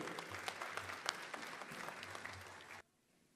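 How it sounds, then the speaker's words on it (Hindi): Steady applause from a crowd at a Republic Day poetry gathering in Dubai, dense clapping that stops abruptly near the end, leaving near silence. "जनाब सैयद सलाउद्दीन साहब, भाई इनके लिए तो तालियां बजें।"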